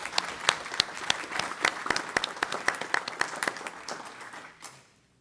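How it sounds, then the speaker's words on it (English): An audience at a county school board meeting applauds veterans, dense clapping with sharp individual claps standing out, holding steady and then thinning and fading away near the end. "give our veterans a round of applause."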